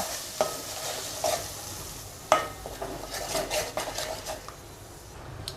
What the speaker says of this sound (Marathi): आता हे छान व्यवस्थित असं आपण तेलामध्ये परतून घेऊया